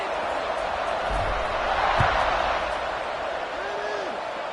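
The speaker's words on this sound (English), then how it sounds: "this crowd is buzzing after that last score" Stadium crowd in a Madden football video game gives off a loud, steady roar with a few muffled thumps and a brief whistle-like tone near the end.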